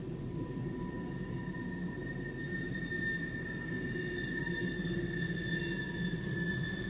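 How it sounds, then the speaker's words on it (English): A train rolls through Elkhorn City, its wheels squealing in long steady high tones over a constant low rumble of railcars, heard close from the middle of a road with no talking. "I just thought I would share the train coming through Elkhorn City"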